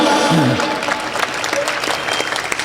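Audience clapping at a kavi sammelan poetry recital in Jabalpur, a dense, steady burst of applause filling the room, with a brief voice audible near the start.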